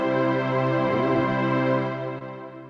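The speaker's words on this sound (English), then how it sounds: "Hymn harmony." Sustained electronic keyboard chord played with a hymn-style harmony setting, rich stacked harmonics ringing steadily for nearly three seconds with a slight shift midway, then fading a little at the end, alone without talk.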